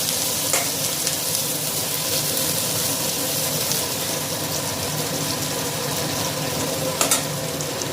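Green chilies and curry leaves frying in oil with mustard seeds, cumin and lentils for Rayalaseema uggani, a dense continuous crackling sizzle up close with a couple of sharp spatula knocks.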